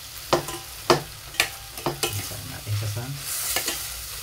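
Food being sautéed in a pan, sharp rhythmic utensil strikes, about seven hard stirs close by, over a soft continuous sizzle that swells toward the end.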